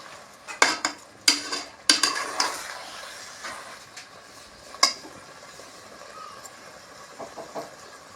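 A spoon scrapes and clinks against a pot while seeraga samba rice and chicken are stirred, a cluster of sharp metallic knocks early, then a lone clack and softer stirring over a quiet sizzle.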